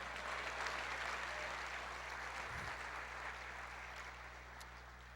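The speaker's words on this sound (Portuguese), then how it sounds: "Aplauda o Senhor, dê a Ele a honra, rejubile na sua presença." A church congregation applauding together in praise during a service, a steady, dense wash of clapping that holds at a fairly even level throughout, with no words spoken.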